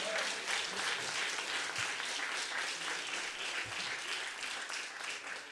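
Steady applause from a comedy open-mic audience in Palermo fills the room, a continuous even patter of many hands at moderate loudness with no talk over it.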